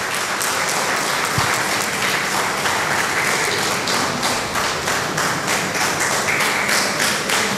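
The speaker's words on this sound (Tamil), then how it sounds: "ஒரு கைதட்டு மூலமாக" Dense, continuous applause from an audience at the inauguration ceremony of a charitable trust, many hands clapping at once, steady and loud throughout with no voices on top.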